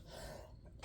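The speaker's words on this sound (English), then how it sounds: "That was me clearing my throat." Single brief throat clearing from a woman indoors, a soft rough rasp that ends in a short breathy burst, quiet and close.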